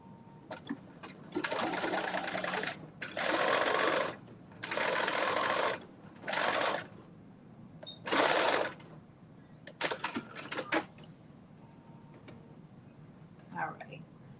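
A home sewing machine stitching closed the end of a garment, several sustained whirring bursts of a few seconds each separated by pauses, followed by scattered clicks and handling noises, with a voice speaking faintly at times.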